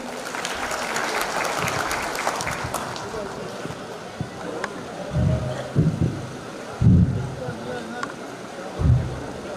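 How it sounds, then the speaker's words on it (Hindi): Audience applause at a national farmers' convention, loud and full at first, then thinning out as a speaker's voice takes over with a few heavy thumps. "जोरदार तालियां हो जाए सर के लिए"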